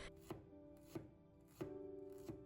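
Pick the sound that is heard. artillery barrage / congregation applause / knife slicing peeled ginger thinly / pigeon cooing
knife slicing peeled ginger thinly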